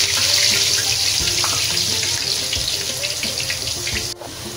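Potatoes fry in hot oil already used for kebabs, giving a loud, steady, hissing sizzle close by that slowly eases and fades slightly toward the end, with no talk.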